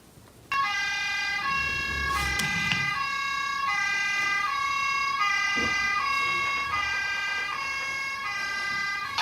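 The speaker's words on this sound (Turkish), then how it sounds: "Zaten ambulans da geldi." An ambulance siren wails loudly and steadily, its tone alternating up and down in a repeating pattern, close by and filling the whole clip.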